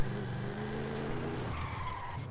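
Car tires skidding and squealing without grip in Forza Horizon 5, in fourth gear, a sustained loud screech over a steady engine roar, continuous throughout.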